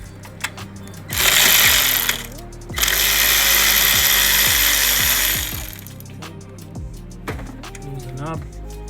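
A ratchet wrench loosens a 10mm nut holding a cable during alternator replacement on a 2018 Toyota Camry: two long, loud, dense stretches of ratcheting over a steady hum and tonal background.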